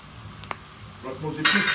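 Onion sizzles gently in a pan for a fish curry, a soft frying hiss with a few light stirring clicks and scrapes that swell into a brighter sizzle near the end.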